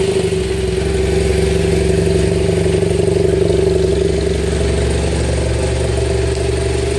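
A 2013 BMW 800GS motorcycle on its stock exhaust runs at a steady, loud, near engine drone with a held low throb and no clear rise or fall in pitch.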